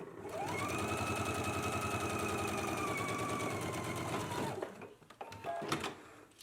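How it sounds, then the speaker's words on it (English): Sewing machine stitching a shirt yoke seam through all layers at a 5/8 inch seam allowance, running as a steady, continuous mechanical whir for about four and a half seconds before stopping, followed by a few small clicks and handling sounds. "now we can go to the sewing machine and we can stitch at a 5/8 of an inch seam allowance through all layers"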